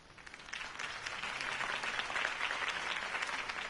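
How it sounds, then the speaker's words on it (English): Applause from a crowd follows a campaign speech in a Batman video game, dense clapping that swells over a few seconds and holds steady at moderate volume, with no talk over it. "If only Mr. Wayne, my campaign's largest backer, could have heard that applause"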